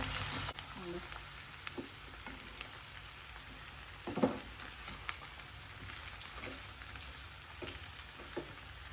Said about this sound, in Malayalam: ഒരു ഉള്ളി സവാള എഴുതിട്ടേക്കുന്നേ അത് ഇതിനകത്ത് കൊടുക്കാം സവാള നല്ലോണം ഇന്ന് വാടട്ടെ